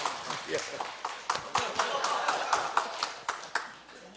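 A church congregation gives rhythmic thanks-applause for a deacon during a revival meeting, a sparse, fairly close pattern of individual claps with a speaking voice over them.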